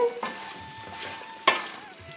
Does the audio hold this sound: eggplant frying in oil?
yes